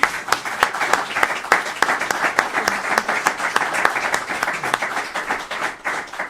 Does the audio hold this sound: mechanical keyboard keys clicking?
no